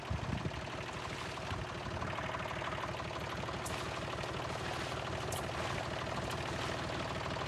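A tractor engine idles close by with a steady, low, throbbing rumble that runs unbroken throughout, without any voices.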